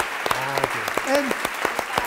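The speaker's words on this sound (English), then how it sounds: "I propose we clap" Lecture audience at a 2012 cooking class on modern thickeners claps after the demonstration. Sharp, scattered, fairly light claps continue as someone speaks over them.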